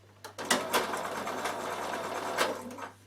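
A Bernina sewing machine stitches a quarter-inch seam on fabric for a carry case, a quiet steady mechanical whir with a few sharper clicks at the start and end, close up with no talking.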